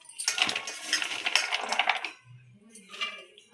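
Washed, chopped carrots tipped into a pan of ghee for carrot halwa, giving a close, busy clatter of pieces hitting metal for about two seconds. A few softer clinks follow.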